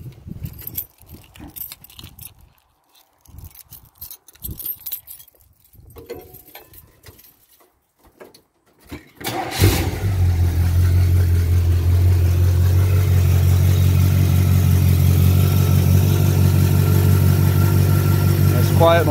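After some faint rustling and handling noises, a 1972 Chevy Nova engine with a violator exhaust cranks and catches, then settles into a loud, steady rumbling idle up close.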